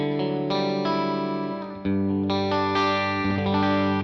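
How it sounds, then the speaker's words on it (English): Reverend Gil Paris Natural electric guitar on bridge and middle pickups with a strat-like tone, run through chorus and distortion effects: sustained chords ringing loudly and alone, changing a few times over a few seconds. "today I'm playing my Reverend Gil Paris Natural"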